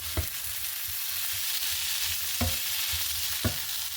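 Liver frying in a pan, a steady close sizzle running throughout with a few sharp scraping stirs of a utensil at intervals and no voices.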